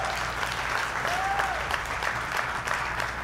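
A church congregation claps during a sermon at Crossroads Church, a soft, even patter of many hands that holds steady throughout, sounding somewhat distant and low in level.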